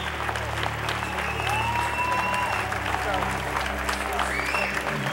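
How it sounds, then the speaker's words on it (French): Warm applause from an audience at a gym career tribute, a dense, steady wash of clapping held at full strength throughout, with crowd voices mixed in. "Avec toute la force qu'il mérite, applaudissons vraiment, chaleureusement, Richard Trottier, un vrai culturiste"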